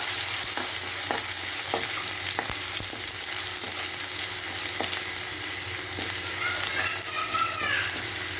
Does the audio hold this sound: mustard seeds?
yes